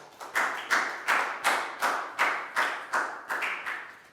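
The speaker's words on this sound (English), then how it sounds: "High five and a big round of applause for Pak Bung" Students in a Year 4 maths classroom clap together in a rhythmic unison pattern, about ten sharp, evenly spaced bursts, close and fairly loud with no talking.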